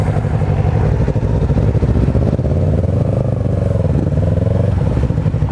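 A Kawasaki Ninja 400 motorcycle with a full Akrapovic exhaust idles and blips with a steady, throaty exhaust rumble, loud and close, with no talking over it.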